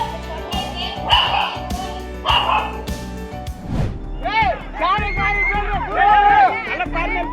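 A white dog barks and yips in a series of sharp calls, loud and close, first mixed with a rattly background and then in quicker repeated bursts with people's voices murmuring around it.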